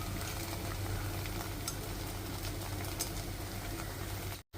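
Gobi manchurian masala fries in a pan over a medium flame, giving a steady close sizzle that runs unbroken before cutting off abruptly at the end.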